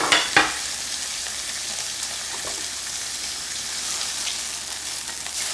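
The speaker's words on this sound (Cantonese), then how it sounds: "我煎香佢，又有些啲顏色" Black-bone chicken pan-fries over high heat, a loud, steady sizzle of hot oil with a couple of sharp spatters near the start.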